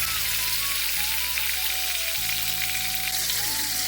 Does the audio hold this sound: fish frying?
yes